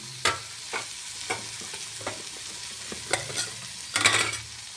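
Broad bean and grated coconut curry is stirred in a hot pan with turmeric, salt and chili. Close spoon scrapes and stirring strokes come at irregular intervals over a low, quiet sizzle, ending in a slightly longer burst of stirring.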